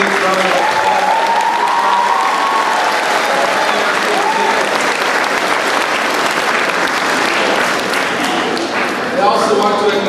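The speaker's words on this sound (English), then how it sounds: "Let's give them both a big round of applause." A crowd at a middle school culmination ceremony breaks into loud, sustained applause that stays full for about ten seconds, with cheers and voices mixed into the clapping.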